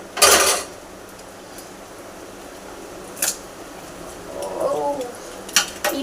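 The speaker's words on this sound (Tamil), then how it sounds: "இப்போ நம்ம முட்டையை உடச்சி ஊற்றிக்கலாம்." An egg is cracked with a sharp tap against a hard edge, then poured into seasoned, salted mixture, followed later by a soft wet slide and light clinks of kitchen utensils in a quiet room.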